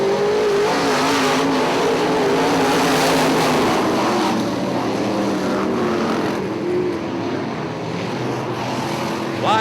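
IMCA modified race cars roaring around the Ionia Raceway Park track in a pack, a loud, sustained engine drone with layered revving that swells and shifts as cars pass, heard without talking.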